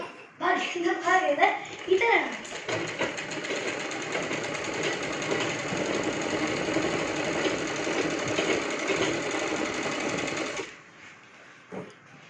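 A sewing machine stitches a kids' lehenga, running in a steady, fast mechanical whir for about eight seconds before stopping. Some handling noise and a voice come before it.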